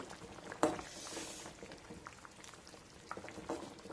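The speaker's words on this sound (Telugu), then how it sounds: "చూడండి కందపులుసు చక్కగా ఒకటొక ఉడికిపోతుంది" Elephant foot yam (kanda) pulusu curry boiling in a pot, a faint soft bubbling simmer with a few isolated pops and small splashes.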